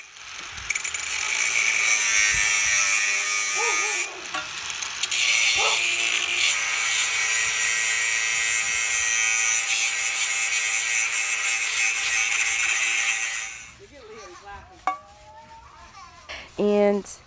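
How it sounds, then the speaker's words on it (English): An angle grinder cuts through the metal frame of an old loft bed, throwing sparks, in a loud, steady high-pitched whine lasting about thirteen seconds, then stopping and leaving brief scattered clanks and handling noises. "So here is some metal grinding, ripping off action for you guys with some sparks."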